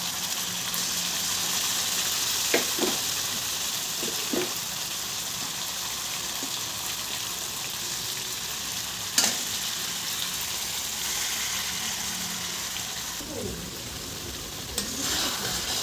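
Chicken leg pieces fry in hot oil in a pan for a fried rice dish, a continuous moderate sizzle broken by occasional clinks and scrapes of a utensil.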